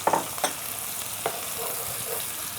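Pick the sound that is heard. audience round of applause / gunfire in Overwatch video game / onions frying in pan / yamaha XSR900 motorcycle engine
onions frying in pan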